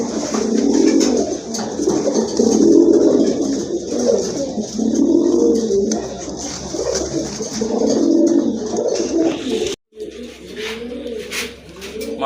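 Pigeons at a seller's, including white queen pigeons with red eyes, coo in steady repeated rolling calls over about twelve seconds, fairly close and loud, with a brief gap near the end before the cooing resumes.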